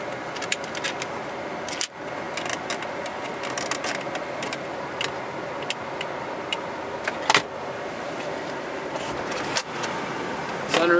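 Power windows and sunroof of a 1991 Jaguar XJ6 Sovereign XJ40 saloon operating. Electric motors whir steadily inside the car and are broken by a few clunks and clicks as the glass stops.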